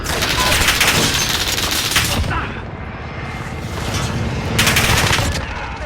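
Dense gunfire from the Call of Duty Modern Warfare beta video game crackles continuously in rapid bursts, loud and close, with radio chatter faintly mixed in.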